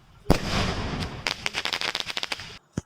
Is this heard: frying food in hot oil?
no